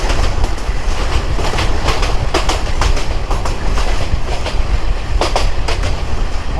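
Balaka Commuter passenger train on the Dhaka to Mymensingh line in Bangladesh, heard from on board as a loud, steady rumble of wheels on rails with repeated clickety-clack beats and no talk.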